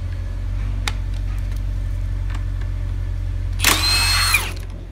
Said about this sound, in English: Option two, we can use an impact gun